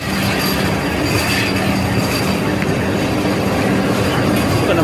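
A Vande Bharat Express train pulls in on the Tiruchirappalli to Tambaram route with a loud, continuous roar of wheels on rails and faint squealing, heard close by.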